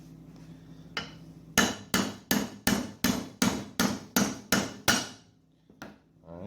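About ten sharp metallic hammer blows driving a bearing into a Yamaha YZ85 swing arm, in a steady rhythm, loud and close, followed by a couple of faint lighter taps.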